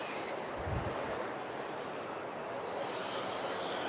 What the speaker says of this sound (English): we have the water gushing out here